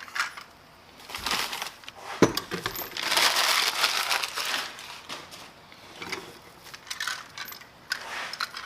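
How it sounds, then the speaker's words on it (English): Metal sockets from a Craftsman 3/8-inch drive metric set clink and rattle as they are handled, with scattered close taps, shuffles and clatter over several seconds and no talking. "Okay, this is a socket set."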